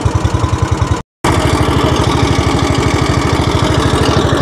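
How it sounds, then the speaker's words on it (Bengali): Motorboat engine on the Sarayu river at Ayodhya, a loud, close, rapid chugging putter with a brief dropout near the start before it runs steadily on. "সরজু নদীতে আমরা নৌকা বিহার করছি।"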